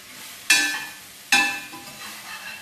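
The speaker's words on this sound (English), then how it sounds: "give that a stir" Two scraping stirs of a utensil through food in a pan, each a sudden loud sweep that fades, over a low background sizzle, with no talking.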